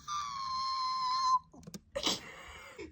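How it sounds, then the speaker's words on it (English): A cat scream sound effect with a congested quality: a strained, wavering high-pitched wail holds for over a second, breaks off, then returns as a raspy, wheezy burst. "Cat trying to scream, but she's congested."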